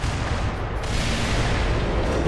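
An explosion in the video game Black Mesa, a loud, dense rumbling blast with broad noise filling the whole stretch, continuous and heavy without pauses.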